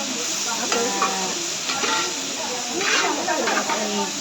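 Long beans, coconut pieces and onion are stir-fried in a pan, with a continuous close hiss and sizzle and occasional scraping stirs while a voice talks over the cooking.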